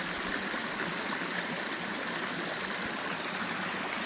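Small mountain stream flowing near tree line at about 11,100 feet in Colorado, a steady close rushing and bubbling wash of water with no voices, even and continuous throughout.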